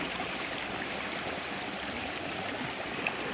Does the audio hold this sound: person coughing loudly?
no